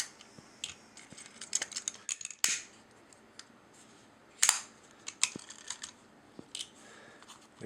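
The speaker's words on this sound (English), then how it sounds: "The cleaver will give us a perfectly cut end to the end of our" A fibre optic cleaver cutting the end of a fibre before fusion splicing gives small, sharp clicks and snaps, a few louder than others, spread through quiet near-field handling noise.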